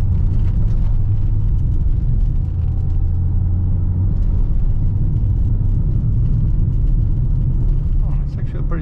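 A car rumbles along a rough public land track, a dense low engine and road drone held close and steady, with scattered knocks and rattles over it.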